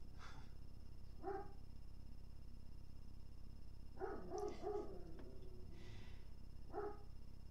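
Devon, a female dog, barks for no reason: a handful of separate barks spaced across a quiet indoor stretch, several single yaps and a short cluster in the middle, fairly faint against low background hum.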